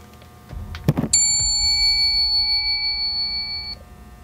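Bell tone from the Spirit Bell ghost-hunting app rings out once, a bright sustained chime that holds steady for a few seconds after a brief thump, then cuts off, heard close and alone.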